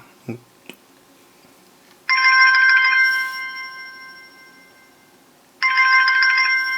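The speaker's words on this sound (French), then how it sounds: "Vous avez plusieurs sonneries et le son est vraiment bon." A bright electronic smartwatch ringtone melody plays for a few seconds, stops, then starts again; a couple of soft taps come before it.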